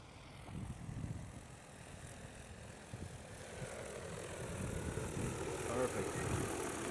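A DJI Agras T50 agricultural drone spraying a roughly one-acre field gives a steady, fairly faint rotor whir and hum that swells gradually toward the end, with a continuous windy outdoor wash.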